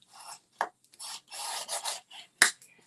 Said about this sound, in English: now let's burnish this